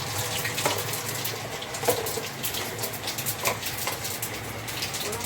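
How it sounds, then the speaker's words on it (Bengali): Bay leaf and whole cumin tempering in hot oil and ghee give a steady, crackly sizzle with small pops here and there, moderately loud and with no talk. "আর তাতে একটুখানি তেজপাতা আর গোটা জিরে ফোড়ন দিলাম"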